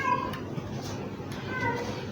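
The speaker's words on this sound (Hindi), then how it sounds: "ये बिल्ली है" A pet cat gives a couple of faint, thin meows indoors, with low murmured voices and household noise around it.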